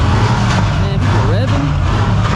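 At a late-night gas station takeover, a car engine roars loudly and continuously nearby, with rising and falling rev pitches and tire noise over the din, and voices talking underneath.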